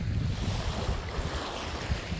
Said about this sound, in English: these waves keep picking up every now and again